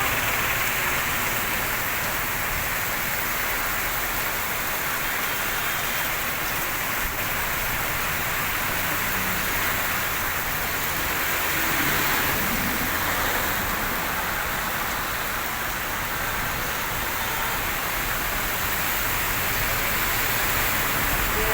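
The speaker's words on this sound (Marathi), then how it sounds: "भरपूर पाऊस दुधारी धरून नदी वाहते रस्त्यावरून पाणी भरपूर आहे" Steady, dense rain hissing without pause during a cloudburst, a constant wash of noise with no voices.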